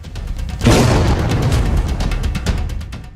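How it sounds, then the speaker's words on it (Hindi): Bomb blast from an Indian Air Force Vayu Shakti firepower exercise: a sudden loud boom at about half a second, followed by a long rumbling roar that slowly fades under crackling bursts. "आसमान और जमीन से कई धमाके किए गए हैं।"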